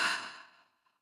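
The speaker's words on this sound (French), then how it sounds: "Expire par la bouche." A deep, breathy exhale through the mouth during a slow yoga session, one soft, airy sigh that starts strong and trails off over about a second, close and alone.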